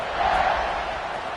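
A college football stadium crowd roars before a fourth-quarter kickoff, a steady, loud wash of cheering voices with no breaks.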